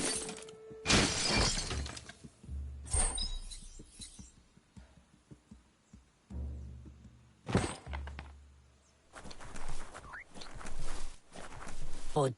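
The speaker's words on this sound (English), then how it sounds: "You shouldn't worry about smashing up the box" A wooden box smashed apart in the video game Biomutant, with sharp splintering, shattering crashes repeating across the stretch, interspersed with thuds and footsteps, loud and close.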